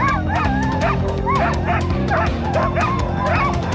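Sled dogs at a kennel bark and yip in quick, overlapping bursts, a loud and continuous chorus of several dogs close by.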